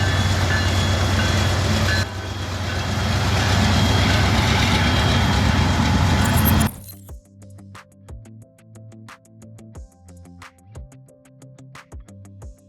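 A freight train rolls past loudly as a dense, continuous roar for several seconds, then cuts to quieter, rhythmic clicking and clattering of wheels over rail joints.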